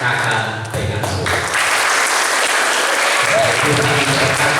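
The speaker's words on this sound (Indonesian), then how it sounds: "Dan tepuk tangan untuk kakak pengasuh" Worshippers in a GKI Sola Fide Mapurujaya church clap for the Sunday school teachers at an anniversary thanksgiving service, a broad, continuous round of applause from a full hall with a voice speaking over it at moments.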